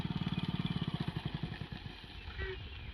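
An Activa scooter pulls up nearby, its small engine putting in a quick, rhythmic chug that loudens and then fades as it slows, with a brief voice near the end.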